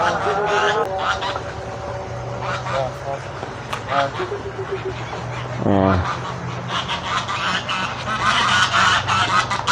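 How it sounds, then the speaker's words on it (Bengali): Ducks at a duck farm in Dubai quack and honk repeatedly in a noisy cluster as they are fed bread, close by, with people talking over them throughout. "দেখেন হাঁসগুলি খাবার দিছে এলা রুটি দিছে"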